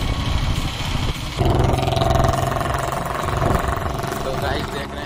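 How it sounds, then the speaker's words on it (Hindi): A motorcycle engine runs at idle outside a motorcycle repair shop in a busy market, a steady mid-pitched rumble that persists throughout, with street noise around it and people talking over it. "यहाँ पाल चाचा जी का मोटरसाइकिल बनाने वाला दुकान"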